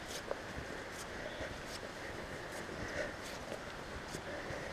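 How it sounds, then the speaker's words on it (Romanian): Wind blowing through spruce trees on a quiet mountainside in the Hășmaș Mountains, a steady broadband rush with soft rustling and faint gusts, continuous and fairly low in level with no talk. "Cântă vântul prin molizi, vântul coborât de pe munte."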